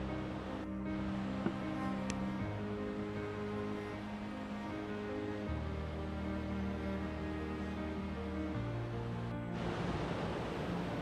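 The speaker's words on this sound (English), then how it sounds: "Here we have FYI Falls, a very tall, spectacular waterfall" Tall, spectacular waterfall beside a hiking trail at Eagle Creek, heard as a loud, constant broadband roar of falling water with steady wind-like rushing throughout, no voices.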